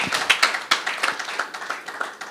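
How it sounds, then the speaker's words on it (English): A few people at an investors' conference clap for the panelists, sparse, distinct claps in an uneven rhythm that gradually thin out and fade. "Please give them a big round of applause."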